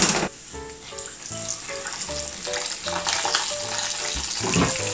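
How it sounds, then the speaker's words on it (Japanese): Pieces of chicken deep-frying in about a centimetre of hot oil, around 170 degrees, in a frying pan, giving a loud, steady sizzle and crackle close by with no talking. "170度くらいに温まったので、先ほどのお肉を揚げていきます。"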